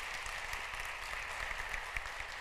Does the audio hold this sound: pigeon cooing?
no